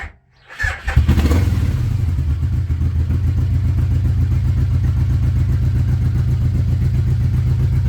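A 1989 Yamaha VMAX motorcycle engine fires up with no choke after a brief crank, then settles at once into a loud, even, throbbing idle that holds steady to the end.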